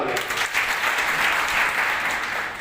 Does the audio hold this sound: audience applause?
yes